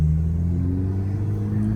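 Ford Focus ST with a Cobb aggressive crackle tune map, a deep steady exhaust rumble close by with a low droning tone, no distinct pops standing out.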